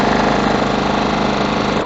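A sewing machine runs steadily, stitching quilt squares from a nine-patch block with a quarter-inch seam, its motor a continuous close, even whir that cuts off at the very end.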